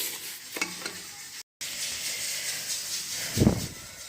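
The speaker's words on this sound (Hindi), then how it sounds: "ऐसे हमने हिलाते रहना।" Coconut milk halwa with sugar being stirred in a pan over a low flame, a soft steady sizzling hiss with light scraping strokes and a brief louder scrape near the end.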